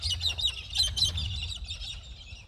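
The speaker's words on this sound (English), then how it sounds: "Can you hear all the beautiful birds?" Many small birds chirp and trill in quick, overlapping bursts at a rural Australian cemetery in Goondiwindi, steady over a low outdoor rumble with no talking.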